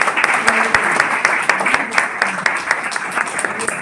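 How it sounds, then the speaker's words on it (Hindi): Indoor audience applause at a group business meeting, steady dense clapping from many hands sustained through the whole stretch, moderately loud and fairly close. "इनके लिए तालियां बजा दें।"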